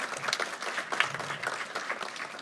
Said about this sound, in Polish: ale proszę o brawa